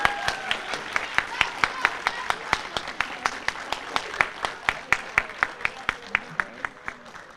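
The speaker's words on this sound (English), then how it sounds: "Give them a round of applause, please." Applause for seventh-grade honor roll students at a school assembly, dominated by one nearby pair of hands clapping in a steady, even rhythm over a faint background of scattered clapping in the room.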